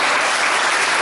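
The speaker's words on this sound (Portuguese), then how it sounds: "Você pode dar uma salva de palmas?" A church congregation breaks into full applause, a dense, even wash of many hands clapping together that fills the whole moment without pause.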